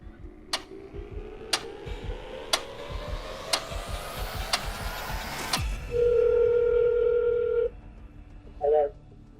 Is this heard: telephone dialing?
yes